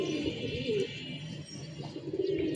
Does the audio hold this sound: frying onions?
no